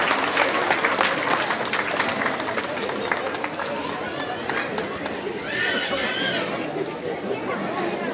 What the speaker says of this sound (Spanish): Fuerte el aplauso, agradeciendo a todo el público presente.